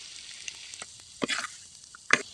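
Country chicken sautéing with chili and coriander powder in a pan gives short, scattered sizzles and crackles, a few louder bursts of stirring near the end, fairly close with no talk.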